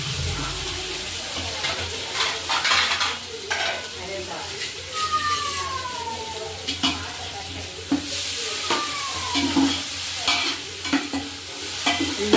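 Curry leaves, green chillies, onions and mint sizzle in hot oil for Telangana-style bagara rice, with a steady crackling fry throughout and a spoon scraping and stirring the pan at close range.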